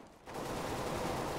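M4A1 rifle fire in the video game CS:GO during a Dust 2 deathmatch, a dense, rapid automatic burst starting suddenly and continuing evenly, fairly close and loud.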